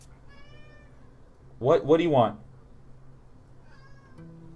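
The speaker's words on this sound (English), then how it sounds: "Oh god, the cat wants to play string." A house cat gives a short, clear double meow close by, while a person talks quietly before and after and faint game sounds play in the background.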